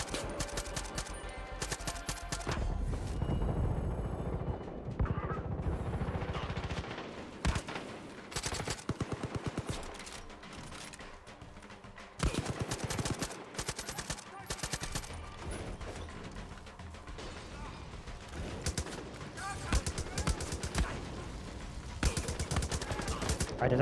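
Rapid bursts of automatic gunfire and single shots from the video game Far Cry 5, loud and repeated across the span with brief pauses, with a voice talking in places.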